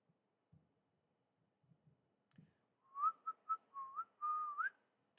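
A person whistles a short run of clear, distinct notes. Soft handling bumps come first, then several quick tones, and the whistling ends with a longer sustained note that rises at the end. The whistling is close and moderately loud in a quiet room.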